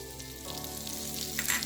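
Garlic sautéing in melted butter in a pan, a soft continuous sizzle with faint crackles and a brief stir, close and quiet, with no talking.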